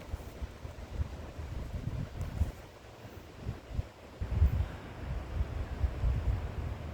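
Strong gusts of wind in South Carolina buffet the microphone in uneven low rumbling bursts, with a faint background wash that could be rough water.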